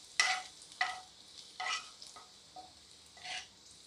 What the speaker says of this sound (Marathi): लसूणचं कच्चापणा जाऊ द्यायचा आहे, त्याला थोडंसं लालसर होऊ द्यायचं आहे